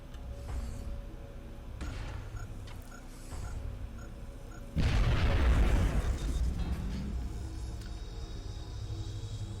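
A grenade blast in XCOM: Enemy Within, a single loud explosion roughly midway that bursts out and rumbles for about a second, set amid quieter mechanical game noises before and after.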